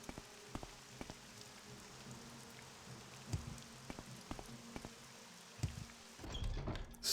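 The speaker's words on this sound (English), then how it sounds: "Coming into Balmora on a rainy night." Rain falls at night over Balmora in Morrowind, a soft, steady patter with scattered drip-like ticks and low thuds, quiet throughout, with a louder rumbling swell near the end.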